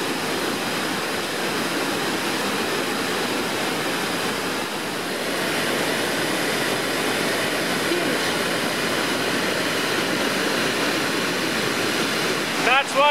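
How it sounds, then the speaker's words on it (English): A waterfall in a northern mountain rainforest roars as a steady, broad rush of falling water, loud and close, continuing without a break on a rainy day, with a brief knock near the end. "Gorgeous waterfall here."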